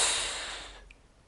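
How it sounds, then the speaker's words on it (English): A single loud breath rushes through a Power Breathe breathing trainer, a breathy hiss that starts strong and fades away over about a second, heard alone. "You will be able to hear the air entering and leaving your Power Breathe"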